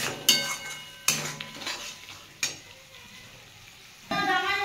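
A pumpkin dhoka mixture is sautéed in a pan: a few sharp utensil clanks against the metal, quiet gaps, then a sudden burst of sizzling near the end.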